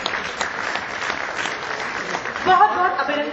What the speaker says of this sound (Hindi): जोरदार तालियों के साथ सभी लोग स्वागत करें।